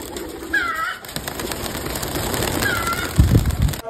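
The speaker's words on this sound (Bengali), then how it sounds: "অনেক সুন্দর সুন্দর কবুতর আছে এখানে।" Short, soft calls from perched Giribaz pigeons rise twice over a murmuring background, with a brief low thumping near the end.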